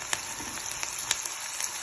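Cluster beans sizzle and crackle steadily in a frying pan, a soft continuous hiss dotted with sharp little pops, fairly faint and close with no voices.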